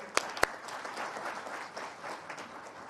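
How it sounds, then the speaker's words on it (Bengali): An audience applauds the arriving sports minister: two sharp claps open a sustained, even wash of clapping from many hands that continues to the end. "ওনার জন্য হাততালি দিয়ে দেন সবাই"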